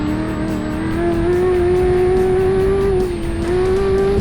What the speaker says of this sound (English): The engine's got that much torque, it just pulls like a train.